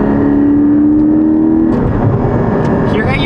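A Porsche 718 Cayman GT4 with an aftermarket axleback exhaust revs with a rising, throaty exhaust note, loud and close, then settles into a rough, rumbling idle.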